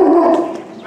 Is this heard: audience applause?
no